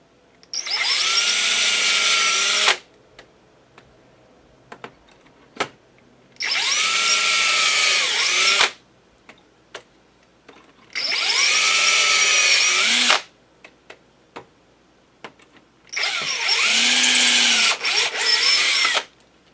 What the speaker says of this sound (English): put the drill bit in my starter hole